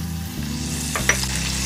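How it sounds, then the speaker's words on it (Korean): Thinly sliced beef brisket and minced garlic sizzle and crackle steadily in a hot pan, a close, continuous frying hiss with small pops, no voices. "저 불 너무 세게 하지 마시고 얘를 한번 볶아주세요."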